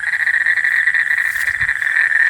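A frog croaks in a steady, rapid pulsing trill that runs continuously and loud near a house and roadside, with no talk over it.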